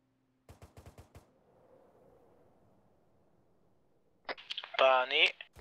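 ArmA 3 gunfire: a quick burst of sharp automatic shots, then quiet radio hiss, then a voice speaks loudly over the radio.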